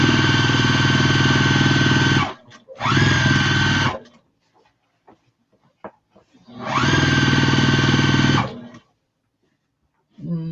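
Sewing machine stitching down fabric for a drawstring bag, loud whirring runs of about two seconds each, separated by pauses with small clicks and handling noises.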